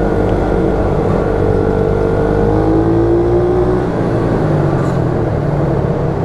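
A YCF 88 mini motorbike rides a karting circuit in Normandy, its small engine buzzing loud and steady near the rider, with rising and falling revs through the laps.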